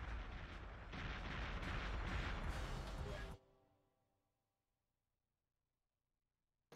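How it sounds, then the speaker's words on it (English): Explosions roar in the Perfect Dark N64 ending cutscene, a dense continuous barrage of booming blasts for about three seconds that cuts off abruptly into a fading low rumble and near silence. "So you'll see some really cool explosions as our laptop buddy blows this entire popsicle stand."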